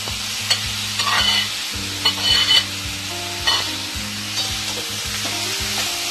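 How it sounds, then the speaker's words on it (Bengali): Boiled banana flower and potato being stirred into a sizzling masala: repeated close scraping strokes of a spatula over a steady fry, with a few louder bursts of stirring, no talking. "মশলার সঙ্গে ভালো করে নেড়ে চেড়ে দেবো"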